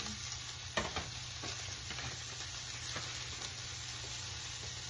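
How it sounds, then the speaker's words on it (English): Leftover onion and jalapeno sizzle in a pan alongside shrimp, giving a steady, quiet crackling hiss with a few soft knocks as the pieces land and get stirred. "now I'm going to throw in some of that leftover onion and jalapeno"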